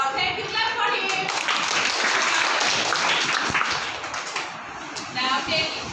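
Audience applause in a beginners' acting class breaks out for a student, a dense steady patter of many hands lasting several seconds, with voices talking at the start and end.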